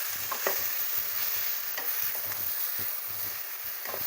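Onions sautéing with rock salt in a pan on an induction stove, a steady close sizzle with repeated scraping strokes of a stirring spoon, no talk.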